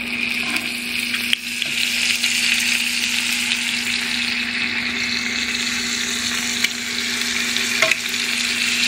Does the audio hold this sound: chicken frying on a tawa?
yes